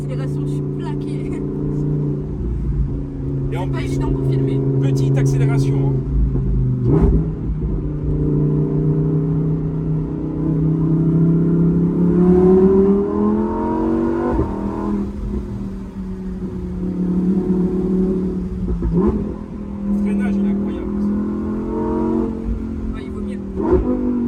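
A Lamborghini engine revs hard and accelerates with a loud, sustained roar that rises and falls in pitch, echoing off a nearby low wall, while people talk excitedly over it.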